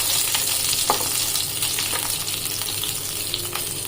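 Chopped onion, green chili and garlic fry in a hot pan, a loud steady sizzle with bursts of crackle and scraping stirs throughout, no voices.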